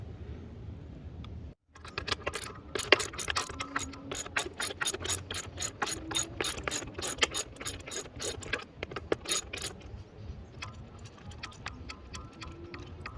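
A ratchet wrench with an extension turns out seat structure screws, giving long runs of rapid, even metallic clicks close by, with a brief pause near the start and no talking.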